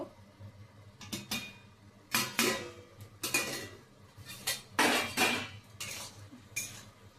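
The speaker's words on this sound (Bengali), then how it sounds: "আমি ঢাকনাটা খুলে এখন দেখে নেব।" A cooking pot of simmering drumstick stems and potatoes for chorchori gets its metal lid lifted, giving a series of clattering scrapes and clinks of metal on metal in bursts, close and fairly loud.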